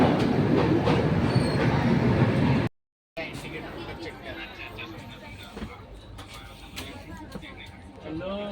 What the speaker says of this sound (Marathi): ट्रेन सुटलेली आहे